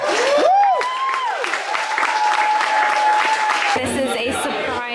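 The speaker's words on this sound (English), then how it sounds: "Giving a huge round of applause to our culinary and service team." A cruise ship dining room crowd applauds its culinary and service team with steady, dense clapping throughout, while bright whistle-like sliding tones sweep above and voices carry through the room.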